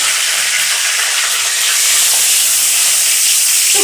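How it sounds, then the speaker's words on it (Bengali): Whole cumin, bay leaf, dried red chilli, cinnamon, cardamom and cloves tempering in hot oil for a potato and cauliflower curry, a loud, close, continuous sizzling hiss that holds steady and swells slightly. "ফোড়নটা ভেজে নেব।"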